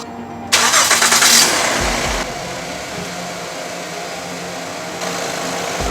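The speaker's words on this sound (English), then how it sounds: "right now I'm gonna start the engine" A car engine cranks and starts after an alternator repair, with a loud, brief starter burst that settles into a steady idle hum. The engine is heard close by and there is no talk.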